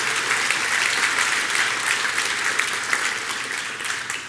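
An audience at a church service gives a sustained round of applause to the Lord, a dense, even wash of many hands clapping throughout, fairly loud and without speech on top.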